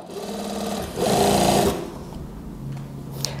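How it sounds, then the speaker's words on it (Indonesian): A sewing machine running a seam along the zipper of a gamis cardigan, a close, rapid mechanical stitching rattle that speeds up briefly in the middle and then slows, with no talking. "kita jahit terus sampai ke bawah"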